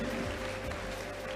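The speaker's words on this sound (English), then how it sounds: "Can we give our women leaders a round of applause?" An audience at a conference assembly claps for women leaders. The applause is steady, dense and fairly faint, with no pause, for a little over a second.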